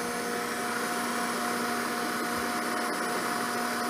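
Lathe boring with an extra-large boring bar while mist coolant sprays, a loud steady hiss and whine with constant tonal hum, continuous and close, no voices.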